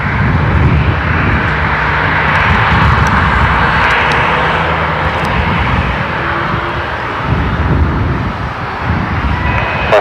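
Jet airliners at Seattle-Tacoma International Airport produce a loud, steady engine roar that fills the scene continuously, with no talking over it.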